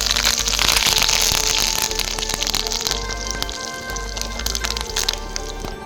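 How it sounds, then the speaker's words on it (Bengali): Mustard seeds, dried chillies and curry leaves hit hot oil for a Kerala-style chicken and fish curry, crackling and popping loudly and steadily, the sizzle easing slightly after the first few seconds. "এবার দেবো কারি পাতা"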